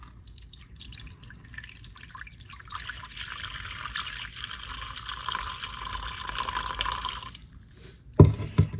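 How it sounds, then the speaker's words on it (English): Filtered water pours into a bowl on a kitchen scale for sourdough starter, starting as a faint trickle and then running as a steady splashing stream for several seconds before cutting off, followed by a couple of sharp knocks. "So I'm going to start with filtered water"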